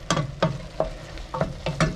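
Ground turkey and vegetables cooking down in a pan, with a steady sizzle broken by about six sharp stirring scrapes spaced roughly evenly.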